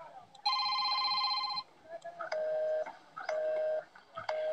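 A telephone rings as a radio drama effect: one long bright ring, then three repeated shorter ring bursts in an even rhythm, close and clear with no voices over it.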